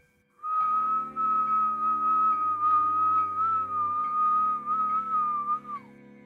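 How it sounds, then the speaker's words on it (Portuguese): A person whistles one long, steady, low note that holds for several seconds with a slight waver before trailing off, clear and close with no other sound. "assobiou com um assobio baixo, mas muito longo"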